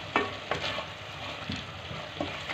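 Minced beef keema sizzles in a hot pan while a spoon stirs it, steady frying crackle broken by several sharp scraping strokes, close and clear with no talking.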